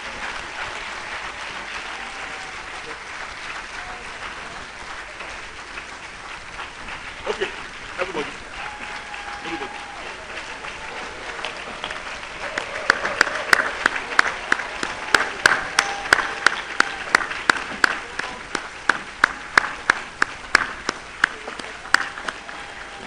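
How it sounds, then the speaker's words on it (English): An audience applauds new fellows of a physicians' college at an induction ceremony, scattered clapping swelling into loud, sustained applause in a large hall, with a voice speaking over it at the start. "So let's keep applauding them as they go."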